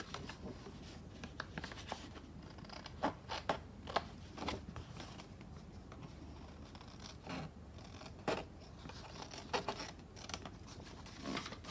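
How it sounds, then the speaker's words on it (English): Scissors trim paper edges off a junk journal pocket in a quiet room, giving faint, scattered snips and rustles of paper with irregular pauses between cuts. "And then folding it up, I can chop those edges off."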